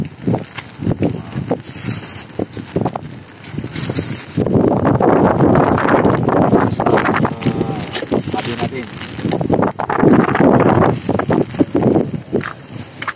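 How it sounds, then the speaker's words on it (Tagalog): Gusty wind buffets the microphone with a loud, rushing roar, rising and falling, while people talk over it throughout. "Malakas ang hangin guys."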